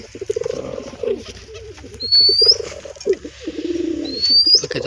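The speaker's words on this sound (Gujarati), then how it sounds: "હવે આપણા બધા કબૂતર છે," Several pigeons housed together in a coop coo steadily, close up, with low throaty rolls that swell and fade in repeated phrases. Light chirps and a brief wing flutter sit in the background, and nobody speaks.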